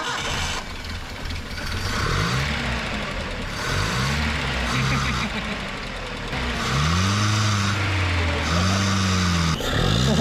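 The engine of a Datsun 620 abandoned in the woods runs rough after being revived, revving up and falling back in uneven bursts against a steady idle, close and loud.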